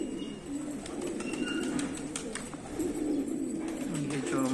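Pigeons in a loft, including mosaic pigeons, coo softly and steadily at close range, a low continuous murmur from many birds with a few faint chirps above it.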